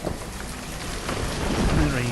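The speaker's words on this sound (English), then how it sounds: "And it rains, and it gets wet." Rain falling in the city-building game Banished, a steady hiss of drops with a low rumble swelling toward the end, heard alone at moderate volume.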